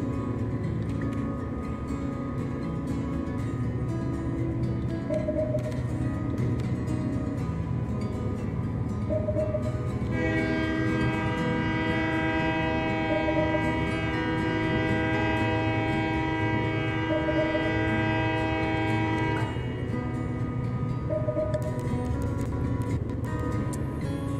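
Train running steadily through the Train Life video game, with a loud sustained multi-tone horn blast in the middle over the constant rumble of the rails and a few short tones.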